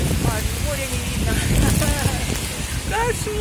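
Steady broadband rain hiss, a dense summer downpour at Omega Bay, Sevastopol, with voices talking over it.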